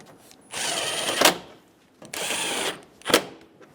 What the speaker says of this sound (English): Install the 2 bolts in the top.